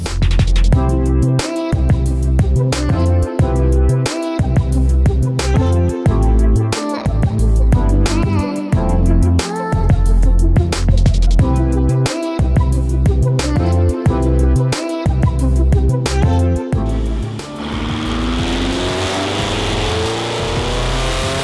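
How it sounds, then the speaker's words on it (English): BMW M5 engine revving hard on a chassis dyno, loud and close, climbing through the gears in repeated surges with brief shift gaps, then winding down at the end. "So let's get the dyno going."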